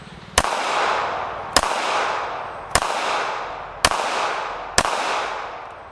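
Five sharp shots from a Smith & Wesson Bodyguard 2.0 pistol at 5 yards, evenly spaced about a second apart, each a loud crack followed by a decaying reverberant tail.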